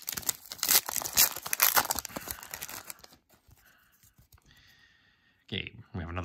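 Wrapper of a 2020-21 Upper Deck Series One hockey card pack torn open with loud crinkling and ripping for about three seconds, then quieter handling and brief speech.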